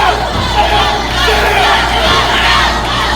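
At an indie pro wrestling show, a large crowd roars and shouts continuously, a loud, dense wall of cheering and chanting voices with a steady low hum underneath.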